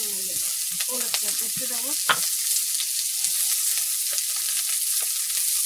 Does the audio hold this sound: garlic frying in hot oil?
yes